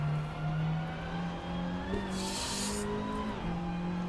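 A Hyundai Elantra TCR race car in Assetto Corsa on the Oschersleben GP circuit, its engine droning and climbing in pitch as it accelerates through gears, heard steadily from onboard with a brief tire hiss.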